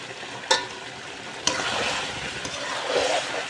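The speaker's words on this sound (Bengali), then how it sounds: "ভালো করে কিন্তু মাংসটা ভালো করে সুন্দর করে কষায় নেব" Chicken salted and sautéed on a clay stove for biryani sizzles in a constant close hiss, with a couple of sharp stirring knocks near the start and the frying swelling slightly toward the end.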